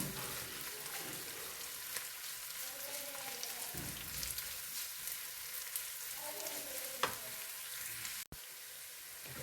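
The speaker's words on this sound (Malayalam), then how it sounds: "ഇനി നന്നായി ഒന്ന് ഇളക്കി കൊടുക്കണം." Capsicum, cabbage and other vegetables for chicken fried rice are stir-fried with a soft, steady sizzle, occasional scraping strokes of a spatula, and a quieter stretch at the end, with no voices.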